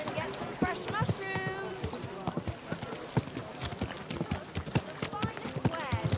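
Horse hooves clip-clop steadily on a path in the video game Kingdom Come Deliverance 2, a rhythmic run of close, crisp strikes with a player talking over them.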